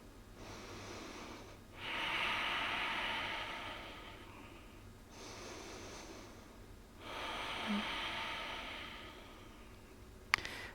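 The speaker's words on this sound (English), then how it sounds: "Nice big deep breaths here for me." Slow, deep yoga breaths, long airy inhales and exhales in a steady rhythm, close and fairly quiet, with a brief click near the end.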